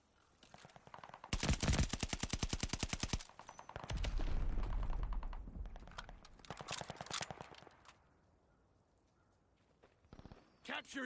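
Gunfire in the Call of Duty Vanguard video game: a long rapid automatic burst, then a rumbling stretch with scattered shots and further short volleys, with quiet gaps and some game sounds between.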